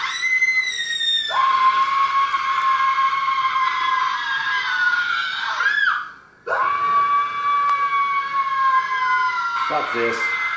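Loud, sustained screaming, shrill, wavering and held close to the mic, cuts off briefly near the middle and resumes just as intensely, ending in a stuttering cry.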